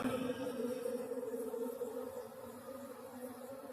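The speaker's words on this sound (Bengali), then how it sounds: "কি পরিমাণে মাছি ভেতর থেকে বার হচ্ছে" Small stingless bees swarming out of a hive inside a tree in an open field, a faint continuous buzzing drone that holds steady and slowly fades slightly, with no talking.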